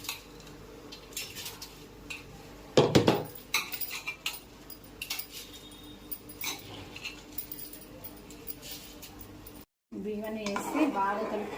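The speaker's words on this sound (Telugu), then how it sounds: "బియ్యాన్ని వేసి బాగా కలుపుకొని ఉప్పు చూసుకోండి" Rice poured into a pot of boiling water for green pulao and stirred, with loud clattering of a spoon against the metal pot, then a steady bubbling simmer; brief faint voice near the end.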